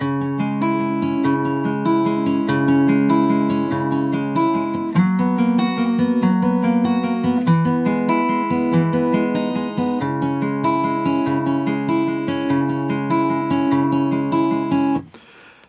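Guitar playing the intro riff of a song at full tempo: a continuous run of picked notes and chords, dense and rhythmic, close and steady for about fifteen seconds before stopping abruptly.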